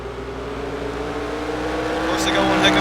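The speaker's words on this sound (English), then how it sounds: "got one heck of a motor under the hood of that Oldsmobile" An Oldsmobile stock car engine in the NASCAR Racing 2003 simulation at Martinsville, a steady droning roar that builds slightly, close and continuous, with a faint whine layered on top near the end.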